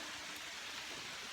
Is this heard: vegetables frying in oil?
no